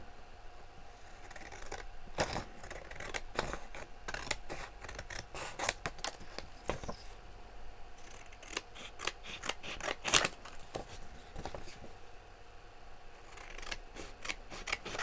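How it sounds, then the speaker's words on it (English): Scissors cutting out cardstock tags, with close, crisp snips coming in irregular bursts and short pauses between them. "So basically I just cut these out."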